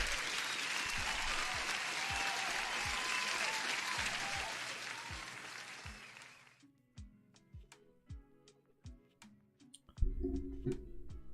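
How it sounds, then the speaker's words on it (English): Dense applause from a crowd fills the first six seconds, loud and continuous with sharp claps scattered through it, then breaks off into a few sparse, isolated claps and knocks. "you deserve the usual applause as the first one"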